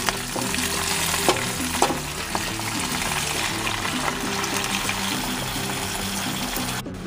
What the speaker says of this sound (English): I'm just going to take the whole thing and toss them right into the pan.